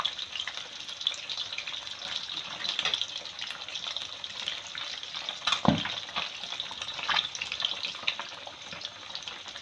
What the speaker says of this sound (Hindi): पहले फ़िश को फ्राई कर लूँगी, फिर मसाले में ये ऑयल चला जाएगा।